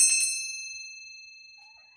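A single struck bell, rung to cleanse an energy space, gives one bright metallic ding that rings on and fades slowly over two seconds.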